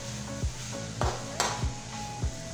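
Chicken pieces fry in hot oil in a pan, a steady broadband sizzle running throughout, punctuated by several sharp low thumps and a brief bright scrape as the pieces are stirred and turned with a utensil.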